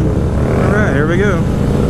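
A CVO Street Glide motorcycle accelerates on a test ride, a deep engine drone that rises in pitch through a gear and swells under heavy wind noise, with a voice cutting in briefly.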